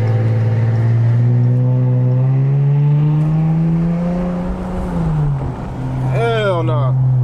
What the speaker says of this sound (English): you can hear the exhaust is not that loud, but it gets louder when you turn the sport mode on